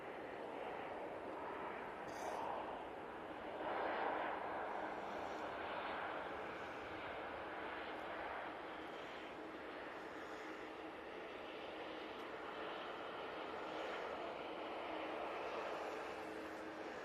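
Engines of an Enter Air airliner at Manchester Airport make a faint, steady broadband roar that holds at a distance throughout.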